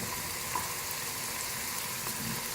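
Yogurt and gram flour mixture for Punjabi kadhi pakora frying in a pan gives a steady, even sizzle that runs unbroken throughout, with no voices.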